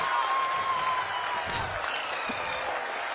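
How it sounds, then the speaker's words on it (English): A crowd applauds in a steady, dense wash of clapping that continues throughout, with a faint sustained tone at first. "People are applauding."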